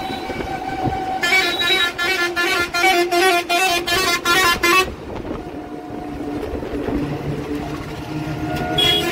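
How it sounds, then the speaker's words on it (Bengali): A bus sounds its horn in repeated loud, rhythmic blasts while passing on a road near Diamond Harbour, followed by steady traffic rumble. "হর্ন মারতে মারতে একটা বাসও বেরিয়ে গেল আবার"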